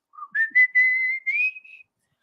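A person whistles a short melodic phrase, clear and close, a few sustained notes rising slightly in pitch, heard alone against silence.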